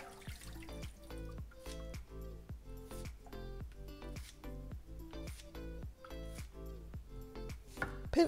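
Scissors snip soaked glass noodles in a steady series of soft, regular clicks and cuts, close and quiet, with faint wet sounds and no talk.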